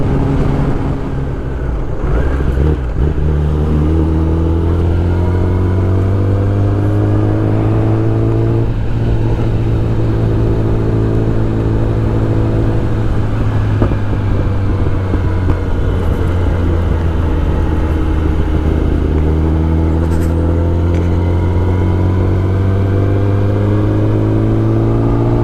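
Kawasaki ZX10R motorcycle cruising on a highway in summer morning fog, its engine a steady loud drone with gently rising and falling pitch and harmonics throughout, wind noise mixed in, no talking.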